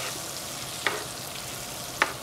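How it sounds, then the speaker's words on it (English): Butter melting in a pan for sautéed stir-fry vegetables with a trace of olive oil, a steady soft sizzle with two brief clicks of a utensil, no talking. "So I'm just breaking down our butter in here."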